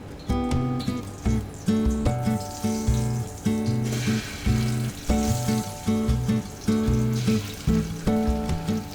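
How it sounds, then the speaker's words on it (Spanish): Strips of skate meat sauté in a little virgin olive oil for a skate paella. The steady sizzle sits beneath loud, rhythmically pulsing background music. "Vamos a sofreír un poco"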